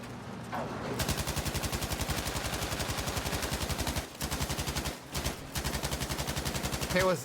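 Machine gun in a video game fires long, rapid bursts of loud, evenly spaced shots, broken by two brief pauses, with a faint voice in the background.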